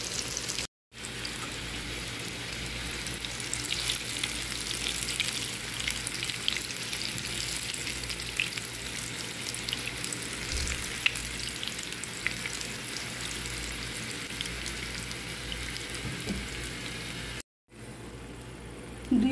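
Pieces of pointed gourd frying in oil in a pan, a continuous soft sizzle with faint crackles, steady and close, with a brief break near the start and another near the end.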